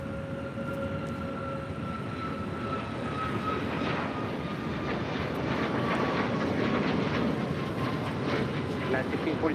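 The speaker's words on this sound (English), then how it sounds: "So China Airlines, the 777 heading over to the gates on the southeast corner of Tom Bradley" A China Airlines Boeing 777 taxis toward the gates at LAX's Tom Bradley terminal, giving off a moderate, steady jet engine drone with a faint whine, continuous and mid-distance in the background.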